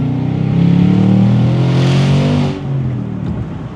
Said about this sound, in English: Pairing the active exhaust with the drop top, the acoustic experience is unmatched,